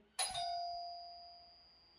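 A single electronic doorbell chime strikes once, then its bright tone rings on and fades slowly over about two seconds in a quiet room.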